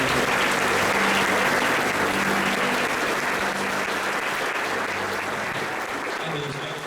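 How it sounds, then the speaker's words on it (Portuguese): A church congregation breaks into sustained, dense applause that fills the room, loud and continuous throughout, with a low hum of voices mixed underneath and tapering slightly at the end. "Vamos aplaudir o Senhor Jesus."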